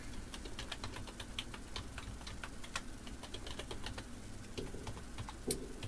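A username is being typed on a computer keyboard at a Linux login screen, with a quick, steady patter of light key clicks and one slightly louder keystroke near the end, quiet and close, with no talking.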